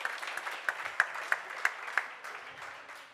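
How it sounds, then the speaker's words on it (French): A small audience at an entrepreneurship award ceremony claps in a short, sparse burst, individual claps audible, fading away after a few seconds. "on peut l'applaudir."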